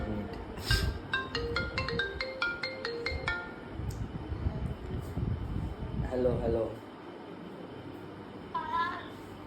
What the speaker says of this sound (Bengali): কল আসছে ভিডিও কল